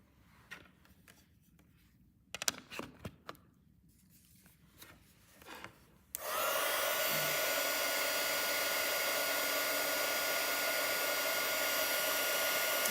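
A heat tool roars steadily and loudly after a few quiet handling clicks and taps, blasting hot air to melt embossing material on a card during Concord & 9th Turnabout and Altenew Stampwheel stamping.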